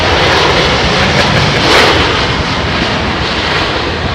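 Loud, steady roar of a WestJet airliner coming in to land at London Heathrow in low visibility, a broad engine rumble holding throughout with a brief swell near the middle.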